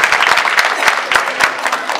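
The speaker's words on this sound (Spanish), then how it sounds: "Yo quiero pedir un fuerte aplauso para ella" A steady burst of applause from a crowd at a rural farmers' day celebration in Barro Blanco, Yolombó, many hands clapping densely and continuously throughout.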